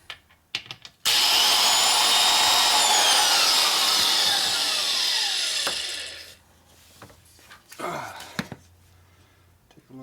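A valve grinder grinds a valve seat in a 1942 Harley-Davidson XA 45 cubic inch military flathead engine, a loud continuous high-pitched whine for about five seconds after a few clicks, then winding down, followed by scattered handling knocks.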